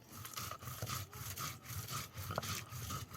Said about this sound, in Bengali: এখানে পেঁয়াজ রসুন আদা জিরা ধনা সব কিছু একসাথে বেটে নিচ্ছে আম্মু